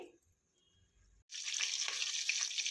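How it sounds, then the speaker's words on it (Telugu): Oil tempering for Karnataka-style cucumber poha bursts into a loud, steady sizzle after a near-silent second, hissing on close by until the end. "ఇప్పుడు తాలింపు వేగింది"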